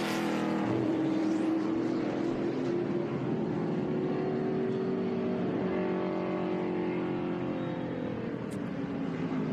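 Race cars roar around the Sebring circuit during an SVRA SpeedTour race, a loud continuous engine drone with rising and falling pitch as cars pass, steady and dense throughout with no talk.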